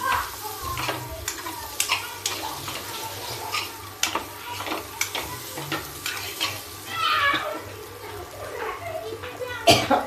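Kashmiri chili hits a small amount of hot oil with turmeric in a kadhi pot, sizzling steadily while a spoon scrapes and stirs in repeated strokes; a voice and other chatter sound faintly in the background.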